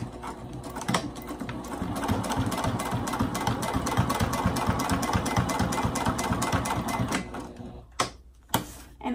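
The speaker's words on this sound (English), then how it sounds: "we are going to top stitch through the ID panel" Sewing machine top stitching through the ID panel of a fabric badge holder, a steady rapid mechanical rhythm running close and loud for about eight seconds before stopping, followed by a couple of sharp clicks.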